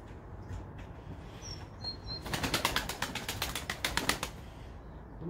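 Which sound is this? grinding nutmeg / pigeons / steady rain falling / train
pigeons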